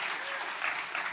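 Steady applause from a seated audience at a women's sports business summit, a dense wash of clapping hands holding at an even level throughout the short burst.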